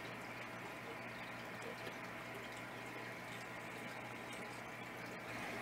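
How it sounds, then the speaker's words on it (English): Steady moving water from a Fluval U2 underwater aquarium filter in an aquarium tank, a continuous even wash with a low hum beneath it, close and moderately quiet throughout, no voices. "This filter over here that had the pleco holding onto it is the Fluval U2 underwater filter."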